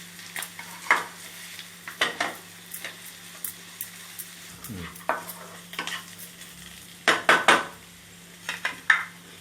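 Chicken frying with chili powder in a pan for a Naatu kodi Andhra fry, giving a steady sizzle broken by repeated close scrapes and stirs of a spoon against the pan and a few brief clanks.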